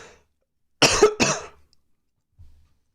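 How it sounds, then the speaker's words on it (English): Two quick harsh coughs close to the microphone from a man day trading futures on a live stream, followed by a faint throat sound, otherwise quiet. "That cough didn't feel good or sound good, did it?"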